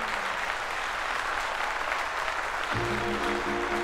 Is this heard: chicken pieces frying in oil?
no